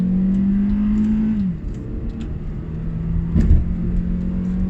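The engine of a Proton Perdana family luxury car revs as it drives, giving a steady tonal hum that drops off as the gear shifts, then builds again with road rumble and a brief thump.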